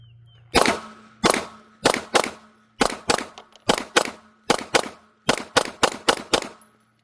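Girsan MC P35 pistol, a Browning Hi-Power clone, fired at an outdoor range: about fifteen sharp, loud gunshots in uneven clusters, with quick follow-up shots near the end.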